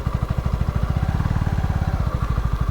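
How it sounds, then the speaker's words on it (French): A Honda CB125R motorcycle ridden along a road: a close, steady single-cylinder engine thrum with rapid even firing pulses, holding a constant pace throughout. "Je suis en moto."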